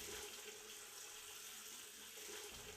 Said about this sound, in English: I splashed some water on my face to wash away the remnants of my dream.